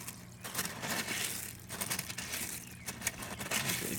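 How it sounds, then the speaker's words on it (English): Soil being dug for a hole in wet, waterlogged ground during seed starting, giving close, steady crunching and crumbling scrapes with brief crackles throughout. "and then dig the next hole."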